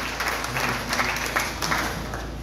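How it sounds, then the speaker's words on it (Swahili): A church congregation gives the pastor a round of applause, a dense wash of clapping from many hands swelling and rolling evenly across the space. "Pigia mchungaji makofi mazuri."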